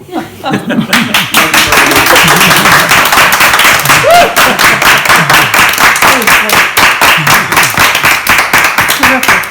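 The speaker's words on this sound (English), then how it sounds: "Poets get applause." Loud, dense applause from a poetry reading audience fills the room, sustained rapid clapping with a few voices and laughs mixed in.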